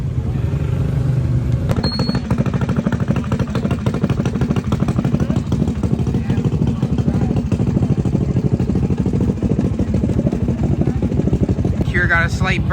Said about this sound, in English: Cars and Cameras 2-wheel drive dirt bike.